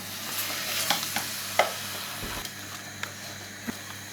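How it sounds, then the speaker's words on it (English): Spinach (palak) with besan and onion paste being stirred in a sizzling pan, with a continuous frying hiss and scattered clicks and scrapes from the spoon throughout. "Mix it so all your besan and all your onion paste and everything gets mixed together with the palak."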